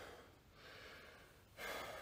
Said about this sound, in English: as you get your breathing under control